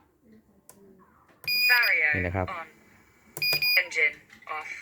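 Electronics of an RC jet plane beep and chirp as the model is armed: short rising tone sequences in two bursts, close and loud, with someone speaking quietly between them.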